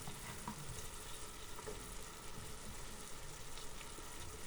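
Steady, faint frying and sizzling in a covered pan of pancit as mushrooms are added after carrots, a continuous crackling hiss with light stirring scrapes and no voices.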